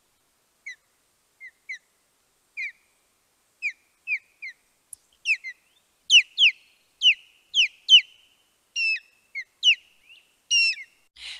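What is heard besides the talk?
osprey display song, played recording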